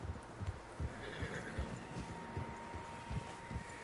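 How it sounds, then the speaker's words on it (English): Horses in Red Dead Redemption 2 whinny and clop their hooves, with faint, soft hoofbeats at an irregular pace over quiet outdoor ambience. "Horses, quite a few of them."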